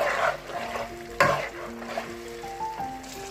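Green chilies sizzle and crackle in hot oil in a pan of restaurant-style Afghani chicken karahi, with a sharp burst of frying as they hit, a steady hiss and scraping stirs, and no talk.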